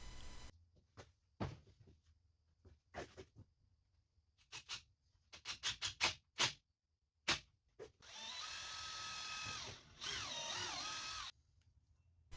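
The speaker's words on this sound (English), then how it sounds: "I am simply screwing this in." A cordless power drill driving screws into a kitchen counter back piece, short close bursts of whirring start and stop in a broken rhythm, then a longer steady run with a rising and falling pitch, no talk.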